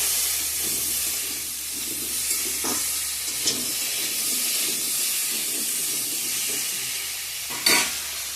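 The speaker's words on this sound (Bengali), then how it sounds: "ভালো করে ভাজা ভাজা করে নেব" Spices with turmeric and salt frying in a pan hiss and steam in a continuous, close sizzle, broken by a couple of brief stirring scrapes and clicks, with no talk.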